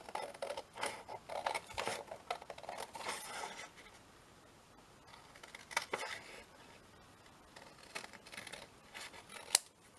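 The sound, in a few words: scissors cutting around paper booklet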